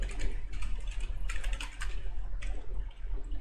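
Rapid clicking keystrokes on a computer keyboard while code is typed, in uneven bursts with short pauses, close and fairly clear.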